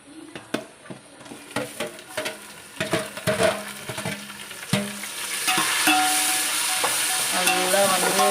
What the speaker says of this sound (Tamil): முதல்ல எண்ணெய் பிரிஞ்சு வர்ற வரைக்கும் நல்லா வதக்கணும்.